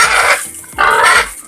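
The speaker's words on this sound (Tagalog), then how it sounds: "Alaga ng baboy." A pig in a farm piggery lets out two loud, close grunts, each about half a second long, separated by a brief pause, with no one speaking.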